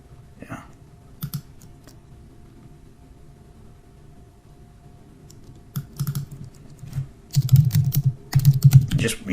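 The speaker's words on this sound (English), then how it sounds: "words are just popping into my head that I'm typing in" Keys on a computer keyboard are tapped in scattered clicks at first, then in quicker, louder bursts of typing near the end, close and dry in a quiet room.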